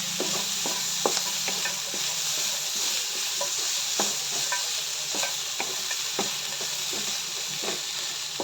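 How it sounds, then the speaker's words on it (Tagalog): Pork frying in its own rendered fat in a pan, a steady close sizzle with occasional crackling pops and spatters throughout, no talking. "Pinatuyuan ko muna ang baboy at pipirituhin siya sa sarili niyang mantika."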